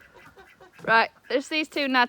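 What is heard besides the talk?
duck quacking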